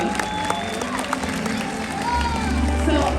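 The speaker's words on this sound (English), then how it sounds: "Everyone give her a round of applause." An audience at SeaWorld San Diego claps for an orca during a show, a brief burst of scattered applause and crowd noise mixed with a presenter talking over it.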